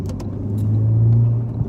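Ford Focus ST250 rolling around a roundabout, its engine note rising into a steady low hum as it pulls through, with brief clicks of gear shifting at the start and end.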